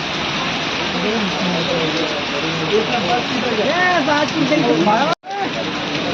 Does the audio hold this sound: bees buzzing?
no